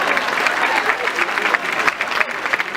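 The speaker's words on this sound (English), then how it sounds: "Give couple number 1 a big round of applause right there." Crowd aboard a cruise ship applauding a newlywed couple during a love-and-marriage game show, steady dense clapping with some cheering mixed in.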